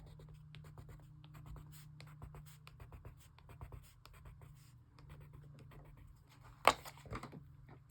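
Colored pencil strokes go back and forth over textured watercolor paper in an art journal, a soft steady scratching with repeated short passes, quiet and close, ending with one sharper tap.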